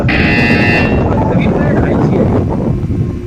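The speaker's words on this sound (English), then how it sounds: "You will hear a buzzer." A buzzer sounds in the video game Portal 2: a steady, loud electronic tone rings for just under a second, then gives way to a dense, rumbling, windy background for the rest.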